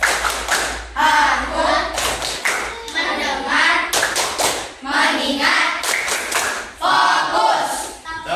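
Children's rhythmic clapping chant in a classroom, bursts of patterned hand claps and taps alternating with group chanting voices, close and loud, repeating in short cycles.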